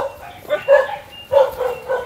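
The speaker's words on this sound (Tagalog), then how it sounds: "Ang ingay ng mga aso." Several dogs bark in short bursts, fairly close, with a couple of quick yips between the louder barks.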